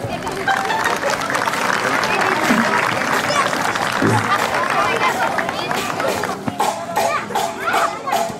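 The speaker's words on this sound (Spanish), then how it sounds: "¡Un fuerte aplauso!" Sustained applause from guests at a quinceañera party, a dense, steady patter of clapping with crowd chatter and children's voices throughout.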